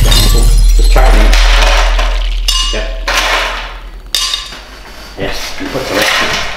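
A handful of ice cubes is handled for a Snickers smoothie, with loud hard clatters and cracking knocks against a container in several bursts, separated by short quieter gaps.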